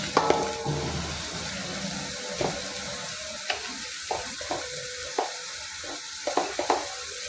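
Bitter gourd fries in a pan with a constant hiss under scattered light clicks and scrapes of stirring, the pops spaced irregularly across the stretch; nobody speaks.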